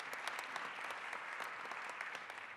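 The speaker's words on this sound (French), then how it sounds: "vous pouvez l'applaudir quand même pour Comuna." Audience applause at the closing of a scientific conference, with many hands clapping in an even, continuous patter that is heard at a moderate distance and lasts a few seconds.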